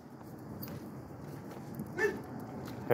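Outdoors, a dog gives a couple of brief yips or whimpers, faint and short, over a steady background hiss, with one louder burst near the end.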